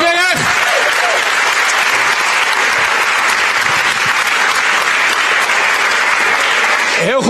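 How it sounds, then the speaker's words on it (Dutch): A political event audience gives the panel a long, dense burst of applause, loud and steady throughout, with a voice briefly audible at the start and end. "Dames en heren, doet u mij een warm applaus."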